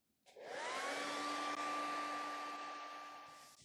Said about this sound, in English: Okay, blow dry it.